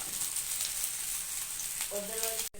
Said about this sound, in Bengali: যে রান্না হচ্ছে এখন কচুরলতি ভাজা